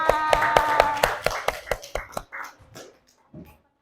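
A small classroom group claps together after a biology quiz on cell parts, a burst of sharp hand claps that thins out into a few scattered, tapering claps and stops.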